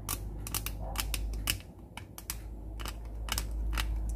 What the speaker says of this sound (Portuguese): Você vai raspando direitinho, não precisa pressa